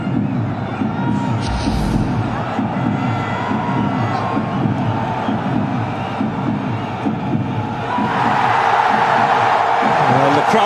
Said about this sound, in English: Well, the crowd come to life.